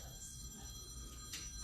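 A phone rings faintly during a city council meeting, a quiet electronic tone held over low room hum.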